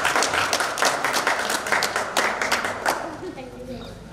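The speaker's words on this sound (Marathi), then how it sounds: "या विद्यार्थ्यांसाठी सर्वांनी तुम्हीच फक्त टाळ्या वाजवायचे जोरात" An audience applauds loudly for students at a school batch get-together in a hall, with dense, continuous clapping that fades toward the end as an announcer's voice carries on over it.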